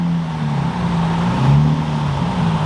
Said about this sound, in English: Got a pretty clean 350Z rolling in.